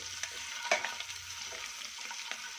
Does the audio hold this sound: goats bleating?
no